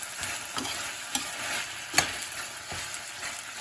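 Carrots sautéing for Filipino igado in a hot pan, a steady sizzle and crackle broken by a few sharp stirring scrapes and clicks, close and alone with no talk.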